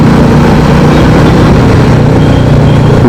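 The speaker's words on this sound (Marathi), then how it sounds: "मी पळवून बघतो आता बाईक कशी आहे ती." A motorbike engine roaring steadily while riding at around 60 km/h, very loud and close, with a dense low rumble and wind noise throughout and no pauses.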